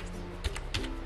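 A few soft, quick keystrokes on a computer keyboard while editing a mining rig's configuration file, faint and close with a light background hum.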